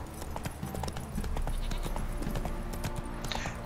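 Roach the horse from The Witcher 3 gallops in a fast, steady run of hoofbeats, loud and close, with no talk over it.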